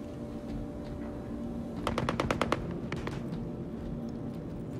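A rapid burst of about six sharp gunshots from an S97 semi-automatic rifle in the video game Star Marine, followed by a couple more, over a constant low hum.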